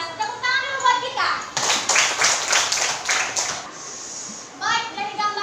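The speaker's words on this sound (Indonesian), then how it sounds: "Tepuk tangan dulu buat kita." A group claps hands together in a brisk burst lasting about two seconds during a coaching session, with voices speaking before and after the applause.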